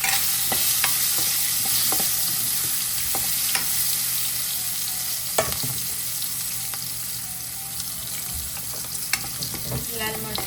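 Red chillies sizzling in hot oil as they are stirred for a spicy Gujarati green bean dish, a steady loud frying hiss broken by spoon scrapes and clicks, with no talking.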